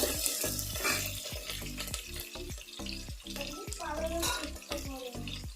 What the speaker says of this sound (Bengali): আমি এখানে পেঁয়াজ কুচি দিয়ে দিচ্ছি।